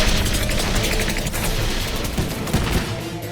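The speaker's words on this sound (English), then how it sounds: "Get set to fire snow cannons." Snow cannons firing in an animated action movie, a dense burst of rapid blasts and booms over loud, continuous battle noise with no talk.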